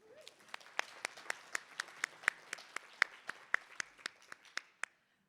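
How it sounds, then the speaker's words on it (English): A small audience claps for panelists at a climate summit on energy justice, a steady sparse round of roughly twenty distinct claps at an even rhythm, fairly faint and ending abruptly. "So let's give them a round of applause."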